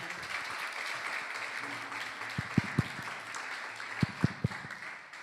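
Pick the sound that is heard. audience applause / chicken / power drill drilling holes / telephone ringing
audience applause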